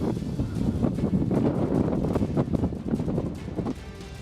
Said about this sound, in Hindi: बंगाल के कई इलाकों में तेज हवाओं के साथ बारिश हो रही है